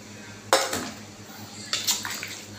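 A spoon clatters against a pot while stirring a chicken and pineapple dish made with evaporated milk, two sharp metallic scrapes and knocks with a soft wet swish between them.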